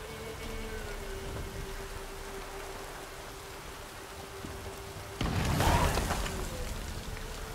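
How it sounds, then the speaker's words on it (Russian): Rain falls steadily in The Witcher 3: Wild Hunt, a soft even hiss with a faint tonal hum, then a sudden louder burst of downpour or distant thunder about five seconds in, with no voices. "Похоже, дождь собирается."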